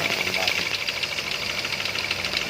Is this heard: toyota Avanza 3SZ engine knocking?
yes